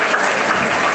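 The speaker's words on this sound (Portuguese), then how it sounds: "Vem bater palmas" A church congregation claps in a brief, close burst, a thick, steady patter of many hands at a fairly loud level with no talking.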